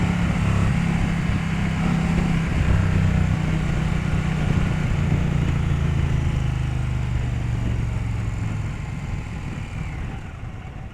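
A 2023 Indian Pursuit motorcycle engine pulls in second gear, a continuous loud throaty drone with steady low harmonics that shift slightly in pitch, easing off a little toward the end.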